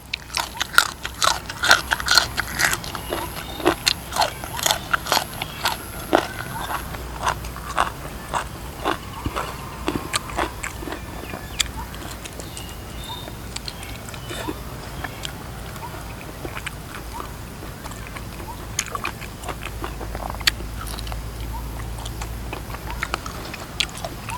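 Someone eats boiled pork offal served with a grilled-pork dipping sauce, giving close, repeated wet bites and crunchy chewing in irregular bursts, heavier early on and thinning out later.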